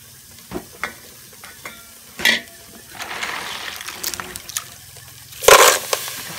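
Snails go into a homestyle coconut-milk curry with a scattering of clinks and scrapes, then a loud burst of frying sizzle and steady stirring, close and unaccompanied by talk.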